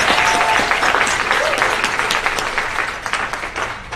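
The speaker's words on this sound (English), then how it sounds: "give yourselves a round of applause for that" Loud, dense applause from an audience at a national educational conference fills the room, sustained and broad before gradually thinning toward the end.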